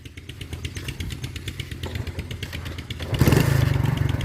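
A motorcycle engine chugs at a rhythmic idle during a riding lesson, then revs up louder and rougher near the end, close to the microphone.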